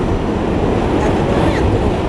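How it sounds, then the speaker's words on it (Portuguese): A New York City subway train rumbles loudly and steadily in a dense, roaring wash of low noise, with faint squeals passing over it. "Esse é o metrô."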